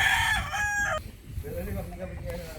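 A rooster crows loudly and close at a Filipino farm hut among broodstag chickens, its harmonic call lasting about a second, followed by softer clucking and rustling from the flock.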